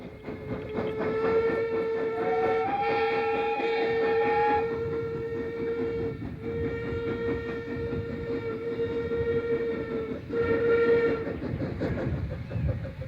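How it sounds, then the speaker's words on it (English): A steam train on the Kent and East Sussex Railway enters a station, sounding a long steam whistle with sustained tones and a final short blast over rolling wheel and carriage noise, heard clearly without talk. "this is the first train to enter the station"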